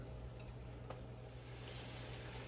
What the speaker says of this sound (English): I'll saute this up until it's slightly browned